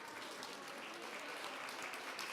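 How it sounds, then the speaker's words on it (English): An audience at a women-in-tech festival applauds, producing a faint, distant wash of steady clapping that continues without a break. "Everybody give them a round of applause."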